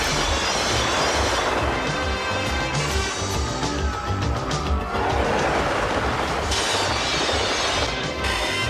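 Loud, dense grinding and screeching of a train braking to a stop on rails, with metallic squeals rising over a constant rumble, continuous throughout.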